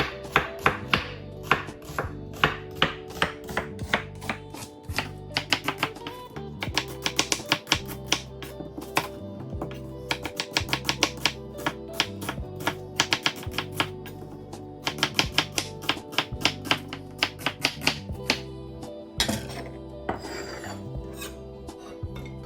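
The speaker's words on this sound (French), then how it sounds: "Là, on va émincer les oignons." Steady, rapid knife chopping on a cutting board as onions are thinly sliced for homemade beef and onions, crisp repeated taps close up with brief pauses between bursts.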